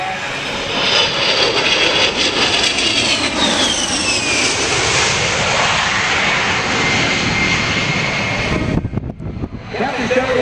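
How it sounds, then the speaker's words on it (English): An A-10 jet at an airshow roars loud and close with a steady engine whine, a rising turbine tone sweeping upward midway, under a public-address announcer's voice before the roar briefly cuts out near the end. "Captain Shelley will now stop his aircraft."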